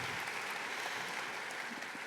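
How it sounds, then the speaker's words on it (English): A panel audience applauds steadily, a dense wash of clapping that holds at an even level for about two seconds, with no talk over it. "let's give him an applause"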